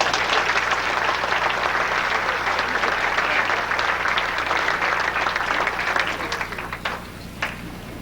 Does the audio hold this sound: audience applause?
yes